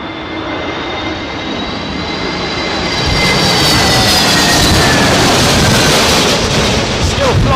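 An airplane lands in a storm crosswind, flying in crabbed sideways. Its engine roar is loud and continuous under heavy wind buffeting, and it builds steadily louder as the aircraft approaches.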